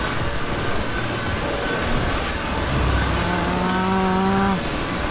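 A saw cuts in the heist video game PayDay 2, a steady mechanical whine with rising pitch that climbs toward the end, set against busy game background noise.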